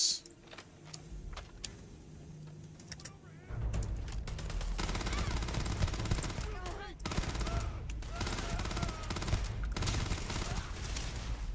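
Rapid bursts of gunfire in the sci-fi video game Starfield, with repeated shots and volleys continuing steadily over a loud background after a quieter opening.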